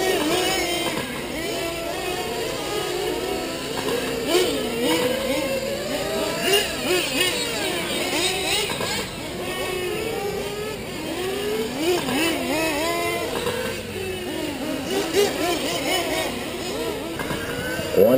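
Several small RC cars race in a club endurance event, their high, buzzing electric motors whining and revving continuously as they pass, with voices talking over the steady racing noise.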